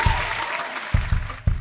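Audience applause at a live improvised comedy debate show, a steady patter of clapping from a crowd with a few louder bursts standing out over the wash.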